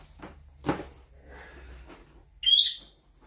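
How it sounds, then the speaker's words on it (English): A pet bird indoors gives one short, bright chirp late on, fairly close and clear, after a stretch of quiet room noise with soft scattered sounds. "That's my little bird over there."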